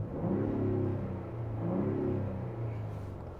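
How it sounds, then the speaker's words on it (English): A 2024 Ford Bronco Raptor's engine revs up several times close by, a loud throaty rumble rising and falling in swells with no talk over it. "So let's see if we can rev this thing."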